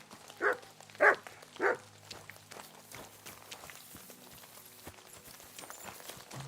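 A dog barks three times at a steady pace in Kingdom Come Deliverance II. The barks are fairly close. Soft footsteps and faint ambient noise continue afterward.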